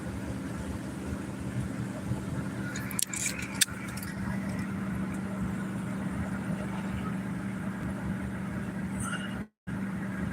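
Car cruising at about 48 mph with the engine at 3,000 RPM, a steady low interior drone with a few brief clicks and rattles, and one short dropout near the end.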